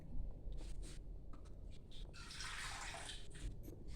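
Water pours steadily into a container, a broad splashing rush that swells midway, with faint clinks and handling noises around it.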